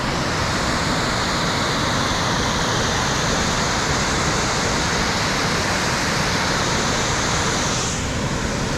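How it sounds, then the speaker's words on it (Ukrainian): Lanchyn waterfall on a river roars as a loud, continuous broadband rush of falling water, steady and close throughout with no talk. "це можна сказати е, Ланчинський водоспад"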